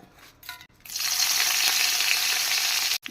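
After a brief quiet moment, a strong crackling sizzle of dried chillies and curry leaves hitting hot oil bursts up and continues steadily.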